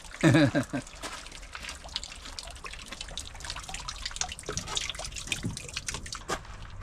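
Water drains and trickles from an RV tank during winterizing maintenance, a steady close dribble with a few sharper splashes and knocks near the start, no talking.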